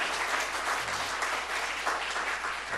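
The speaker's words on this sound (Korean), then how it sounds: "성가대원들에게 우리 감사 박수 좀 보내주시죠." A church congregation claps in thanks for the choir at a year-end service, a dense, even burst of applause filling the room without speech.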